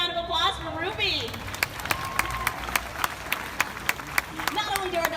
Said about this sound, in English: How about a round of applause for Ruby?